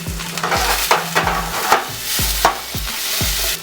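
Vegetables sizzle loudly in a hot pan, with repeated stirring strokes and utensil scrapes against the metal every half second or so over a continuous crackling fry, close and without speech.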